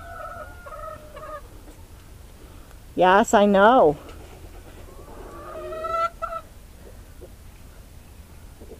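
Chickens cluck in a hen house, with a loud burst of squawking clucks near the middle and a softer round a few seconds later, and a person speaks briefly over the quiet background.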